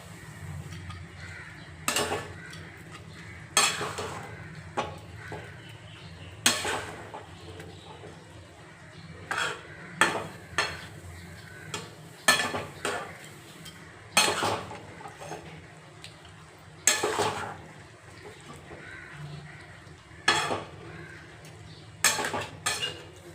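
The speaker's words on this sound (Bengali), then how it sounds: "এখন এটা ভালো করে কষাবো।" A utensil stirs and scrapes chicken masala with almond paste in a pan, giving repeated clinks and scrapes at an irregular rhythm over a faint, low sizzle.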